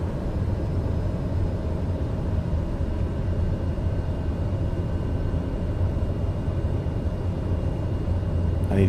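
A TBM 850 turboprop held at full throttle in a flight simulator gives a steady, dense, unbroken engine drone that stays loud and even throughout.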